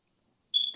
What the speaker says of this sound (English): My alarm keeps going off.